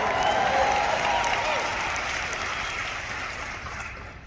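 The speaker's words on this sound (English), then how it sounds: "But yeah, you can clap for beautiful. You can clap for that." Audience clapping at a conference talk in Las Vegas, a dense wash of applause that starts fairly loud and gradually fades, with faint crowd voices mixed in.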